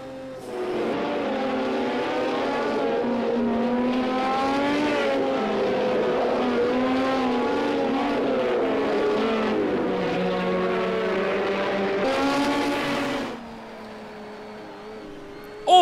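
Porsche 917-10 race car in a racing video game, its engine screaming continuously at high revs with rising and falling pitch through gear changes, loud and steady before cutting off near the end.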